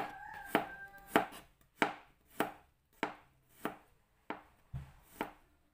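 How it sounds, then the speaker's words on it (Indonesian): A knife thinly slices garlic cloves on a cutting board, nine or so sharp, evenly spaced chops about two thirds of a second apart, close and clear with no talking. "Bawang putihnya juga sama, diiris tipis-tipis seperti mengiris bawang merahnya tadi"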